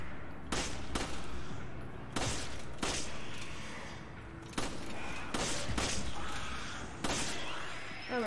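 Gunshots fired at a boss in Resident Evil 5, sharp loud cracks in irregular bursts of one to three, spaced across several seconds with a booming tail after each.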